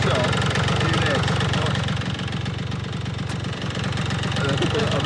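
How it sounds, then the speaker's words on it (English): A car engine runs close by with a steady, rough idling throb and some knocking vibration, continuous and loud throughout. "It's like an engine to me. I think that's an engine."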